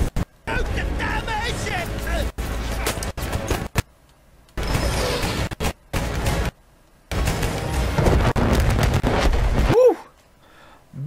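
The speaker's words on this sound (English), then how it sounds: "Big explosion." Explosions and heavy gunfire in the video game Battlefield 1, loud bursts that cut in and out with abrupt gaps, mixed with excited player speech over the battle noise.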